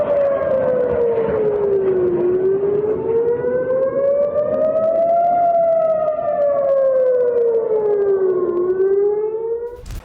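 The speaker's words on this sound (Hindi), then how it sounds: "इजराइल के हाइफा और तिब्रियास में एयर रेड अलर्ट।" An air raid alert siren wails over Haifa and Tiberias in Israel, a loud, continuous tone slowly rising and falling in pitch for the whole stretch, with no voices.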